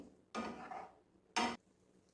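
A spoon works boiled poha balls into a spiced tempering in a pan over low heat, two short quiet scraping clatters separated by about a second.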